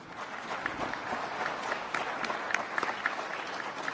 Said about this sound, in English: Please a big round of applause to my panelists.